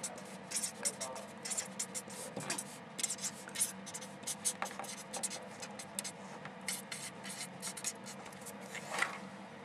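Marker or chalk writing on a board during a Thai chemistry lesson on biomolecules, with steady scratchy strokes and short squeaks repeating throughout, close and fairly quiet, no talking.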